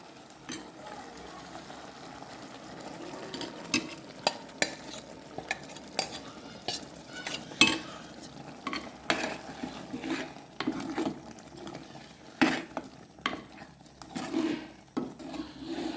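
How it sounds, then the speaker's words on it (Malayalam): A spoon stirring ground paste into mango puliseri in a pan, with irregular scraping and clinking strokes that are fairly close but quiet, over a faint background and no speech. "ഇനി എല്ലാം കൂടി ഒന്ന് നമുക്ക് മിക്സ് ചെയ്തെടുക്കാം."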